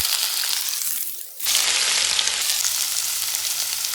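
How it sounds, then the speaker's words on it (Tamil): Chopped onion drops into hot oil already crackling with mustard seeds and fennel, and a loud, steady sizzle bursts up suddenly and continues close by. "கட் பண்ணி வச்சுருக்கிற வெங்காயம் போட்டுக்கலாம்."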